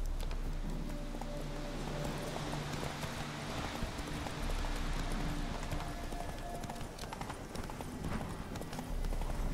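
Roach, a horse in The Witcher 3, gallops in a steady rhythmic clatter of hoofbeats over continuous game ambience and music, moderately close.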